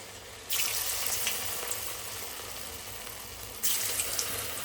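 Cauliflower pieces drop one by one into hot oil and fry with a loud, steady hiss, the sizzle flaring sharply at each new addition.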